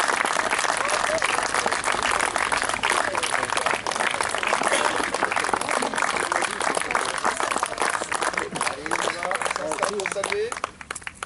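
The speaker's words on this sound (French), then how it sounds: "Je vais vous demander d'applaudir tous les comédiens." An audience applauds the actors at a heritage-day theatrical performance, with dense, continuous clapping lasting about ten seconds before thinning out, and voices mixed in beneath it.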